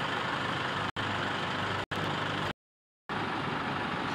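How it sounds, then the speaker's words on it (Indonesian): A Toyota Innova diesel engine running smoothly after a tune-up, idling as a steady, close rumble broken by a few abrupt cuts and one short gap of silence. "Suara mesin terdengar lebih halus."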